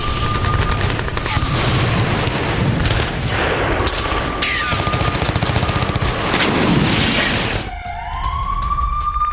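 Battlefield din from a Ukrainian tank assault: continuous dense bursts of gunfire and rumbling blasts, loud and unbroken, with a wailing siren-like tone cutting through near the end.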